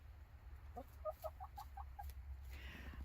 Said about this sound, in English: now we have 8 chickens